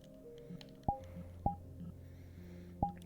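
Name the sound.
beeping phone in a VR roleplay video game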